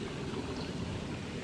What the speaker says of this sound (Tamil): ஃபுல்லாக தண்ணி பாயுது